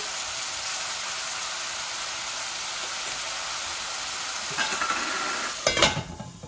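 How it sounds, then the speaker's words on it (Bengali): Onions fry with salt in a pan, giving a steady close hiss of sizzling oil, then a burst of stirring and scraping near the end. "আমার পেঁয়াজটা একটু ভাজা ভাজা হয়ে যাচ্ছি"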